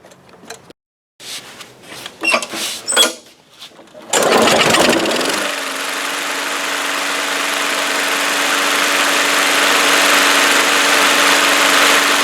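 Old Craftsman lawn mower engine after a carburetor change: a few rattling pull attempts, then the engine catches and runs on at a steady, loud, even idle.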